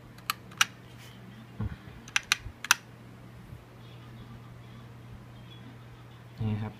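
Bursts of typing on a Pentagonz Bowhead mechanical keyboard with Realforce-style switches: clusters of crisp, close key clacks separated by pauses, over a low steady hum.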